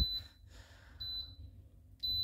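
An appliance with its lock on gives short, high electronic beeps as buttons are pressed, three separate tones spaced about a second apart, faint over a low background hum.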